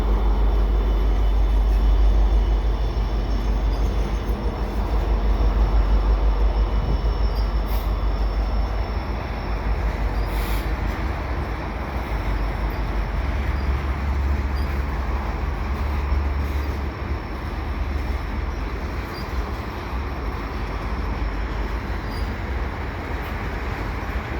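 A long Canadian Pacific freight train rolls past at Lachine with a continuous heavy rumble and clatter of wagons, loud and close throughout with occasional faint wheel squeal and no voices.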